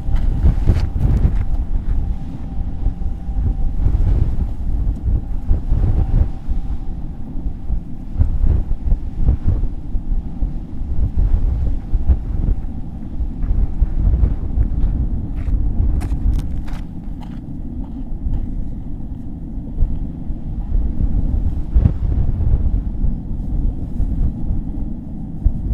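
Wind buffets the microphone in a continuous low rumble, gusting unevenly with occasional faint knocks, and no talking, on a windy night at a campsite with a tent.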